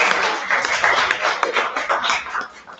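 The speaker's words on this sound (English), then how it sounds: "let's give our judges a round of applause" Audience applause for the judges at a Finnish brewers championship event, a steady wash of many hands clapping that sustains throughout without letting up.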